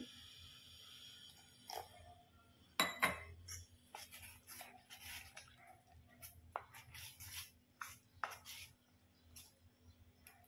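Omelette batter being mixed with a spoon after water is added, giving repeated light clinks and scrapes against a bowl, close and fairly quiet, in an uneven rhythm with short pauses.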